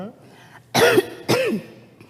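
Two short, harsh coughs from a woman whose cough is improving, sounding close and separated by a brief pause, in an otherwise quiet room.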